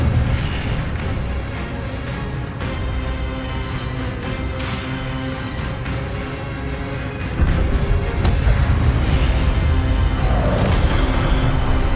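A fiery Incendio spell effect roars as a sustained rumbling whoosh with crackling bursts, growing louder and denser partway through and continuing steadily to the end, with no voices.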